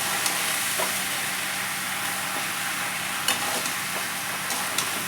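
Raw green mango pickle being stirred with sugar in a pan, a steady soft sizzle and hiss with occasional light scrapes of the spoon against the pan, no talking.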